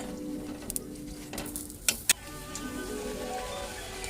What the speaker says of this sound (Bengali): এইভাবেই নাড়াচাড়া করে নিলে লুচি খুব ফুলবে।